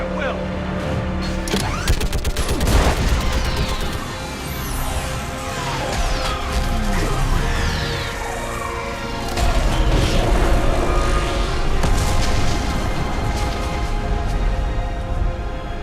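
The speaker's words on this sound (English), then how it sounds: "I need an orbital strike. We're clear! Fire at will!" An orbital strike fires on a live Reaper in the sci-fi game Mass Effect 3, heavy booms, blasts and sweeping energy effects layered over battle noise and voices.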